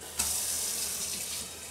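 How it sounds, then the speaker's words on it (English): Hot water poured from a kettle into a cooking pot while braising soaked chicory, a steady close splashing stream that starts abruptly and runs continuously without pause. "now I will cook them in water, putting some hot water here."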